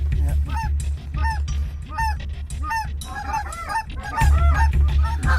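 A large flock of geese honks during a waterfowl hunt, with dense overlapping calls, loud and close, continuing throughout with a low rumble underneath.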